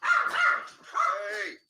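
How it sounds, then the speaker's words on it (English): Dogs bark in two bursts with a short gap between them, loud and close, in a room during a sports betting show. "Damn, dogs. Go sit down."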